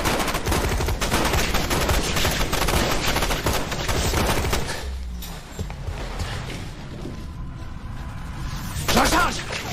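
Dense gunfire rattles through an action-film shootout, rapid machine-gun-like bursts for several seconds, then a quieter gap before more shots, loud and close, with shouted voices mixed in.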